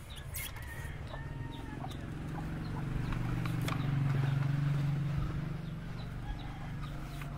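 Fighting roosters cluck and call at a rural yard, with faint scattered clucks and sharp calls over a steady outdoor background and a low rumbling hum that swells in the middle.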